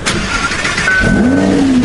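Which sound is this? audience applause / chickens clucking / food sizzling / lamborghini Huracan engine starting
lamborghini Huracan engine starting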